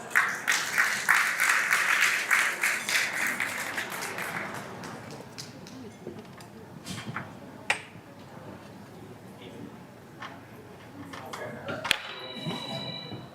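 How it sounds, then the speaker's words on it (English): Audience applause at an evening poetry reading event, a strong wash of clapping at the start that thins into scattered claps and faint background noise. "Please give her a big round of applause."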